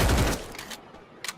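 Rapid gunfire bursts from the Free Fire battle-royale game during a World Series 2021 tournament broadcast, loud and dense at first, then thinning into scattered shots with a brief final volley.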